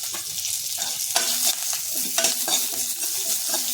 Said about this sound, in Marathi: कढीपत्ता पण छान असा परतून घ्यायचा